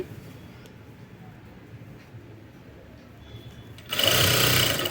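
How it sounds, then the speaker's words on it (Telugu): A sewing machine stitching piping onto cloth starts up near the end, a loud steady whirring hum that runs continuously after a quiet stretch of faint room noise. "ఇలా మొత్తం కూడా నీట్గా కుట్టుకుంటూ వచ్చేయటము ఇలా"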